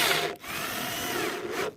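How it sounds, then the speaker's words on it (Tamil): A power drill drives screws into a wooden box, producing a close, steady whirring grind that dips briefly twice as the bit pauses between bursts. "இப்போ ஒரு ஸ்க்ரூவை போட்டு நம்ம டைட் பண்ணிக்கலாம்"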